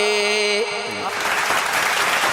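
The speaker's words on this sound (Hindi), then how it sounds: "इतनी ही तालियां आनी चाहिए" Applause from the audience at a mushaira in West Bengal breaks out after a sustained tonal vocal line fades, swelling into a dense wash of clapping that carries to the end.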